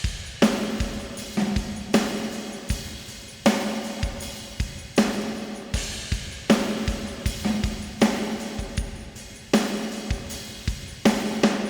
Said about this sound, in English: our finalized drum pattern is going to sound like this